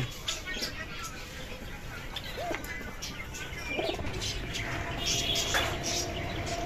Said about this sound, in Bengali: প্রচুর পরিমাণে আছে ঘুঘু।